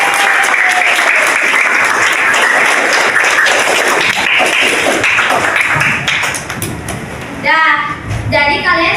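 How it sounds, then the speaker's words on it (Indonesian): Loud, dense clapping from a group of schoolchildren in a classroom, cheering a classmate named Ajis, steady for several seconds before thinning, with children's voices breaking in near the end. "beri tepuk tangan untuk Ajis"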